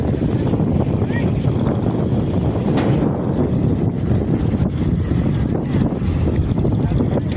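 A trawler boat chugs along the Turag river, its engine drone steady and close alongside broadband wind and water rush, continuous and fairly loud throughout.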